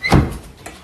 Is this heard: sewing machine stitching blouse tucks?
no